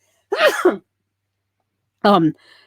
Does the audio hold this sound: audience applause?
no